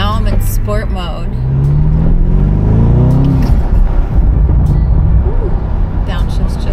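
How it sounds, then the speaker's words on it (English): 2023 Bentley Continental GT S V8 in sport mode, a deep engine growl rising in pitch as it accelerates and then dropping on a downshift, loud and close, with a person talking over it. "Love the growl of the engine in sport mode."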